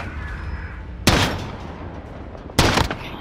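Two loud, sharp gunshot blasts ring out about a second and a half apart in a video game gunfight aboard a cargo ship, each with a short echoing tail over quiet ambience.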